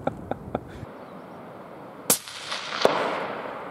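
A rifle shot from a Defensive Edge 260 Terminator during long-range testing, a single sharp report followed by a second crack or impact, with a few faint clicks beforehand.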